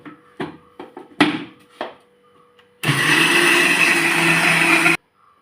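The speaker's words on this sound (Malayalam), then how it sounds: "ഇതിപ്പോൾ മിക്സിക്കകത്ത് ഒന്ന് കറക്കിയത് ഒന്ന് കറക്കിയാൽ മതി" After a few knocks and handling sounds, a mixer grinder whirs loudly for about two seconds, blending cooked papaya into a paste, then stops abruptly.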